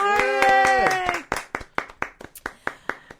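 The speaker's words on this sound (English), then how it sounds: "Everyone, big round of applause for Pranav Behari." Studio audience clapping for a comedian guest on a podcast stage, a burst of scattered claps that thins into a few individual hand claps, starting loud and mixed with music-like tones before trailing off.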